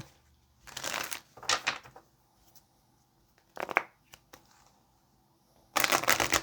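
Tarot cards shuffled by hand in a few separate bursts of riffling and shuffling, close and crisp with quiet pauses between.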